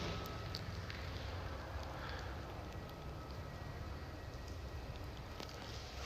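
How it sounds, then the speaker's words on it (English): A low, continuous rumble like a distant train or heavy machinery, heard near old radar bunkers, runs steadily and faintly under broad wind-like hiss with no clear breaks. "That sounds like trains, that's weird."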